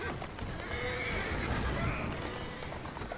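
A horse in Assassin's Creed Syndicate whinnies loudly and close, its neigh rising and falling over a steady background of game noise.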